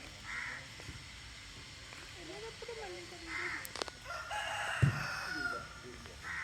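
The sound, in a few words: rooster crowing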